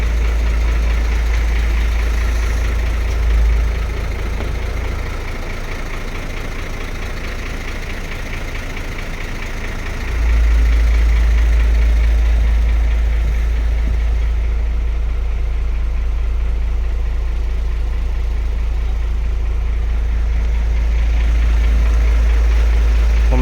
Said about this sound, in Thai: รถ รถยังติดเครื่องอยู่ครับผม